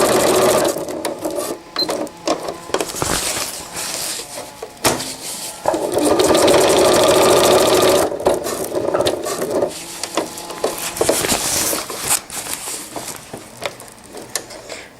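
A sewing machine stitches cased elastic into a fabric diaper cover in short stop-start bursts, with rustling and handling of the cloth between runs, close by.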